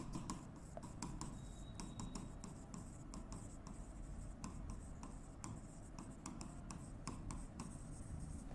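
A pen scratches across paper in short, irregular strokes and taps, quiet and close, continuing steadily for several seconds with no talking.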